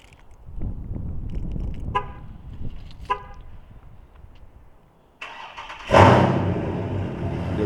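A Dodge Charger or Challenger engine cranks on a cold start and fires up loudly, settling into a rough, revving idle after a stretch of quieter background noise and a couple of short chirps.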